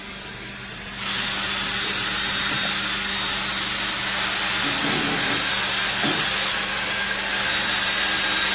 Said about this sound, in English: Here, Joey, take this steam tool out of Brian's way here.